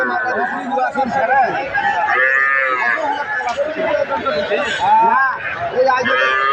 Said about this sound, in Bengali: এখানে আরেকটি রয়েছে গাভী এবং বাছুর